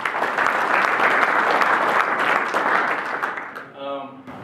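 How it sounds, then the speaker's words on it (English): An audience at an auto show claps in sustained, dense applause that fades out near the end, followed by a voice beginning to speak. "so I think we should give him a round of applause"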